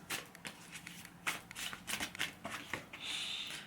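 Tarot cards being shuffled and drawn from a deck, a series of crisp riffling and flicking sounds close by, ending with a longer brushing shuffle.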